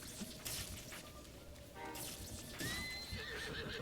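A horse neighs and whinnies in The Legend of Zelda: Breath of the Wild, several loud bursts close by over game ambience, with some hoof clatter mixed in.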